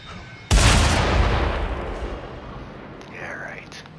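Gunfire in the Mad Max video game: a sudden loud burst that decays over a few seconds with rumbling, followed by a fainter whooshing sound near the end.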